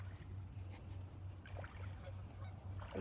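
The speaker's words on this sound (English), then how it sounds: "Just ignore the geese." Geese honk near water, faint and somewhat distant calls scattered over a low steady engine-like hum, with brief murmurs of people nearby.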